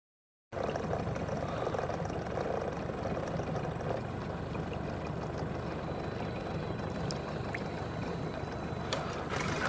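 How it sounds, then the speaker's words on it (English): A boat's engine drones steadily and evenly for several seconds on Deer Lake, Newfoundland, a constant low rumble with no voices. "Boat coming out."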